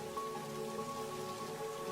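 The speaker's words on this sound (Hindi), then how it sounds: "जंगल में बहुत तेज बारिश हो रही थी।" Heavy rain pours down in a forest as a story sound effect, a steady dense hiss of drops with a faint low rumble beneath it and no voices.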